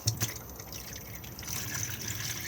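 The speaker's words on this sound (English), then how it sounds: "The water pump needs to be on so we can get water out of the taps" A caravan water pump runs as water flows and trickles through the taps, with a brief splashy burst at the start and then a steady, moderately loud flowing sound.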